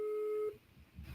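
A telephone busy signal sounds while someone tries to reach a caller during a panel conversation, a steady tone heard clearly for about half a second before cutting off into faint room noise.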